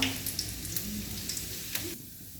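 Green chillies dropped into hot oil already holding popped mustard seeds and a little onion, giving a steady close crackling sizzle with a few sharper pops, no voices.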